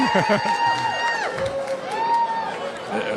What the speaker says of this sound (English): cheering for law enforcement too here in San Antonio